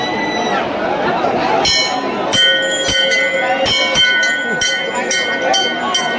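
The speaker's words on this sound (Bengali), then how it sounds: "এই ঘন্টাটা কত বড়" A large temple bell at Baba Dham, Deoghar, struck repeatedly with bright ringing clangs that overlap and sustain, loud and close above a busy crowd of pilgrims and a nearby voice.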